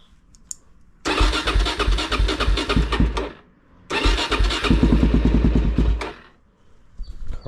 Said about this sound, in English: Get the bike warmed up.